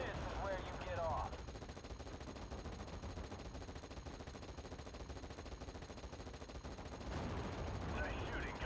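Dense, continuous gunfire rolls through a Steel Division: Normandy 44 battle featuring the 82nd Airborne, thick and sustained with louder bursts at the start and end, mixed with battlefield noise.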